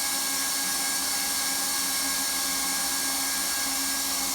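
A Mozart heat welding tool makes its first pass along a vinyl sheet flooring seam, giving a steady, even blowing hiss with a faint motor whine that holds unchanged throughout, with no talk.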